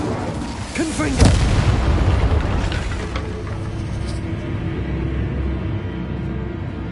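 One loud, booming Confringo spell blast in Hogwarts Legacy erupts about a second in, then a rumbling tail that fades over several seconds.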